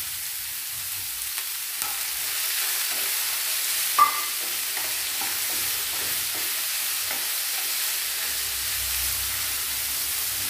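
Mixed vegetables with green peas are stirred and sautéed for a Kerala thoran, a soft steady hiss close by with light scattered clicks of stirring and one small clink.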